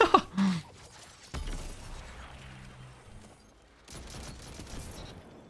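Pulse rifle tap fire in a video game: a few short, sharp bursts of gunfire near the start, followed by quieter mechanical rattle and ambient game noise.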